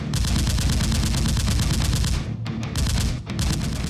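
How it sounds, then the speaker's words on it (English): Guards open fire on a SWAT team, with rapid automatic gunfire in dense, continuous bursts. The shots are loud and close, with a couple of brief breaks before the shooting picks up again. "A guard suddenly comes out and upon seeing SWAT starts shooting."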